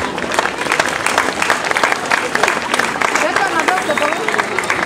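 Steady, dense audience applause at a Slovak concert event, loud and continuous clapping throughout with light crowd murmur beneath.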